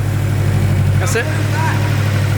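A Nissan S15 idles steadily just after its first start, a low, even rumble held close throughout, with a short clatter of activity partway through.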